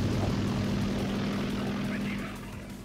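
A propeller-driven warplane in War Thunder drones loudly and steadily at close range, the engine tone holding even before dropping off slightly near the end.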